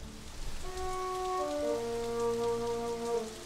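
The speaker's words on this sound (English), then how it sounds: "it's raining" Cartoon rainstorm in a dinosaur children's animation: steady rain patter on surfaces runs throughout beneath sustained musical tones, with no thunder and no speech.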